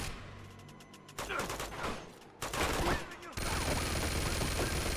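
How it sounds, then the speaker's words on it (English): Rapid automatic gunfire in Uncharted 2: Among Thieves, dense fusillades of shots in several loud bursts with brief gaps, layered over game sound. "Who is shooting at me?"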